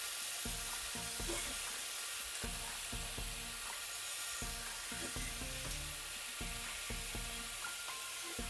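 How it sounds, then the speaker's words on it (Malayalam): Potatoes sauté in a little oil in a pan for potato rice, giving a continuous soft sizzle broken by regular scraping and knocking strokes of a spoon stirring them, fairly faint and steady, no talking. "ഇത് ഇതുപോലെ നല്ലതുപോലെ വഴറ്റിയെടുക്കണേ"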